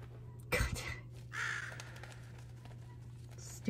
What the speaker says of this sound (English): You just got scared by a bloody bird.